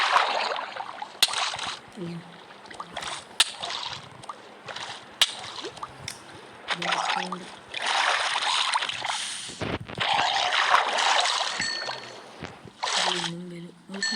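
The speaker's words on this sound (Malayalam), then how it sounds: "ബോട്ട് കയറട്ടെ" Water sloshes and splashes as a small boat moves along in Minecraft, with intermittent bursts of paddling noise and someone talking over much of it.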